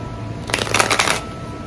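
A short burst of tarot cards being riffle-shuffled, a quick crisp flutter lasting under a second against a quiet room.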